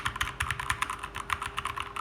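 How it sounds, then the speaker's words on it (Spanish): Typing on a Keychron V2 keyboard fitted with brown switches, a steady close stream of rapid clacky keystrokes with a rounded, tactile thock. "Este es como que el sonido que emite este tipo de switches."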